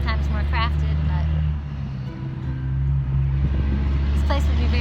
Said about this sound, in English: this place would be very peaceful if it wasn't a loud truck route